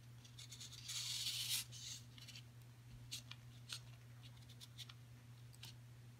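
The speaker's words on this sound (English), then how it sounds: "we're gonna go ahead and put the blade down and start cutting" A circle cutting tool's blade slices through paper at close range, a quiet scratchy cut with a louder rasping stretch near the start, then short scraping strokes over a steady low electrical hum.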